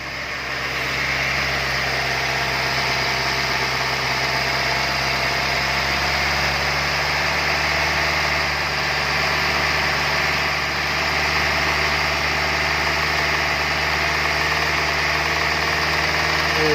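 A car engine idles steadily and close during a GDI intake valve cleaning service, a constant even hum with light mechanical vibration and no talk.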